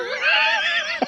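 Shetland pony neighing, a single loud, close whinny with a wavering, quavering pitch lasting about a second, ending in a short snort.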